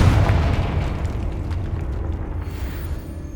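A Confringo explosive spell from Hogwarts Legacy bursts at the start with a deep boom, then decays into a long rumbling fiery roar that holds steady and loud throughout, with no voices.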